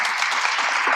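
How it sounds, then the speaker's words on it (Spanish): Dense, steady applause from a crowd fills the whole moment, even and sustained with no pauses. "para que te pido un gran aplauso"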